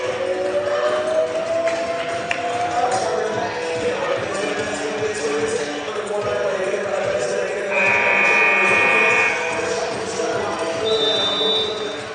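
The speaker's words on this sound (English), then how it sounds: "and a buzzer for some reason" A buzzer sounds during a women's college basketball game, UMA versus CMCC, as a steady electronic tone lasting about a second over constant gym and crowd noise.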